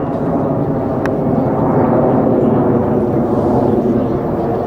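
Red Arrows display jets at an airshow, a loud steady roar of engines passing overhead with no talk in the foreground.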